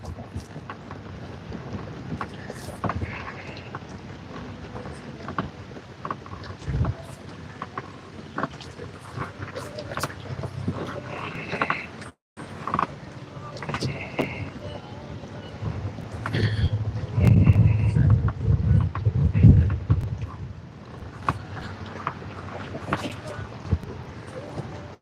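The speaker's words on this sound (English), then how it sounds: "Must be a boat coming up behind me." A boat motors up from behind on Lake Kathryn in Oneida County, its low engine rumble growing louder toward the end, heard through steady wind buffeting the microphone.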